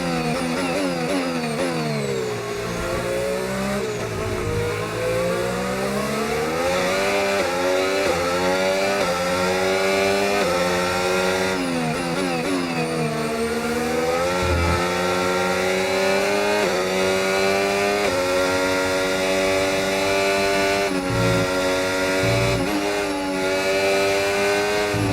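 A McLaren F1 race car in F1 25 at Jeddah screams at high revs, the engine note climbing and dropping through repeated upshifts and braking downshifts, loud and continuous.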